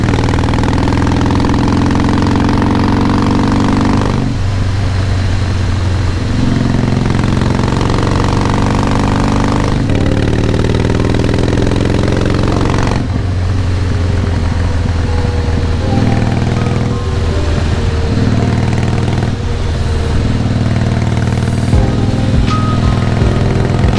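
A Harley-Davidson Softail Classic motorcycle engine while riding, a steady loud rumble that rises and falls with shifts in throttle, close and continuous with no talking.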